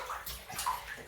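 Water sloshing and splashing gently in a bathtub, soft and close, in a short continuous burst with no talk.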